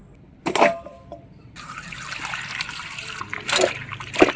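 Chopped pumpkin leaves being rinsed with water, with bursts of splashing and trickling near at hand, separated by quieter stretches of running water.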